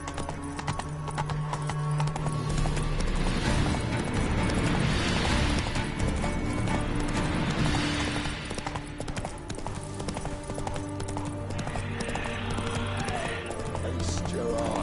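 Roach the horse from The Witcher 3 gallops in a steady, loud clip-clop of hooves that runs the whole stretch, with game ambience and a faint snort or whinny mixed in.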